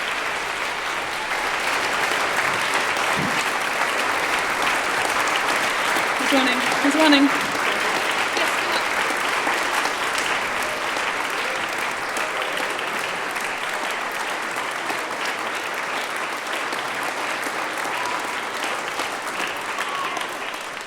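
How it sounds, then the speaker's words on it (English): Sustained audience applause fills a concert hall during a children's choral singing event, dense and steady throughout with a few cheers, while a voice speaks briefly over it. "Keep going, keep clapping. Huge round of applause."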